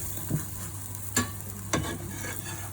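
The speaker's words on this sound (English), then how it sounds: "you will cook the roti for sort of maybe 30 to 40 seconds on each side, and when you've done that you'll flip it" A roti cooks on a hot oiled pan with a low, steady sizzle, broken by a few soft taps and scrapes as it is turned, close and alone without any talk.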